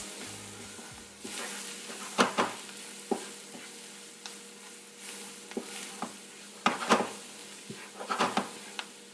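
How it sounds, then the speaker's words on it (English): Flour being stirred into a pan for mac and cheese sauce makes repeated scraping and clinking strokes of a utensil against the pan over a faint sizzle, irregular and close, no speech. "Make sure to really mix that flour in so there's no lumps."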